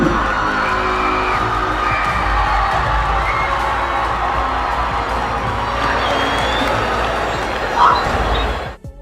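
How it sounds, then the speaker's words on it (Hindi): Crowd cheering at a soldier's homecoming, with dense sustained clapping, whistles and shouts carrying loudly from start to finish and a brief sharper whoop near the end. "लोगों ने भी तालियां और सीटियां बजाकर उस पल को खास बनाने में कोई कसर नहीं छोड़ी"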